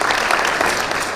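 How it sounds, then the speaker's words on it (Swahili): Crowd applause at a political gathering in Kenya, as constituency leaders are introduced: dense, steady clapping throughout, loud and continuous with no pauses. "mpigie makofi."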